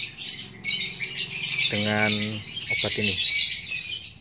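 A white-rumped shama with a cough and cold squawks and chirps in short bursts close by, with someone talking over it and steady background hiss.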